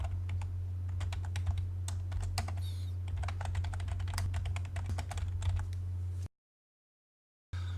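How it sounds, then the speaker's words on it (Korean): Rapid clicks of computer keyboard keys being typed while entering a command in AutoCAD, close and steady over a low constant hum, then cutting to near silence at the end. "Z를 입력하고 엔터 클릭합니다"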